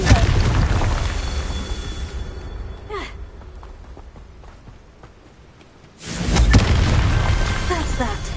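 A Confringo blasting spell going off in the Hogwarts Legacy video game, a loud rumbling boom that dies down into quieter game ambience before a second heavy roaring burst rises again.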